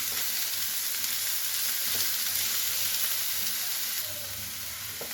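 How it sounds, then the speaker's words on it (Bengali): Shrimp and onions fry lightly in a pan, giving off a soft, continuous sizzle and hiss that holds steady throughout with no voices over it. "এবার একটু হালকা ভাজা ভাজা করে নেব, যাতে চিংড়ি মাছের কাঁচা গন্ধটা কেটে যায়"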